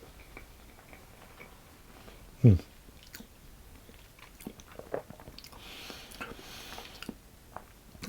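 Someone takes a bite of a mini Christmas cake with browned butter icing, giving one short, close crunch, then faint soft chewing under quiet room noise.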